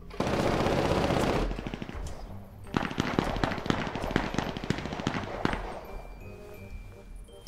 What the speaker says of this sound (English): Gunshots from all directions, buddy.